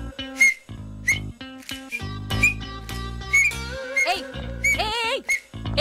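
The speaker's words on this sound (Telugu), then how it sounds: "విజిల్ వేయడం నేర్పిస్తున్నా" A person whistles in short, shrill, repeated bursts with wavering pitch, some notes sliding up and down, loud and close, as if practising the skill.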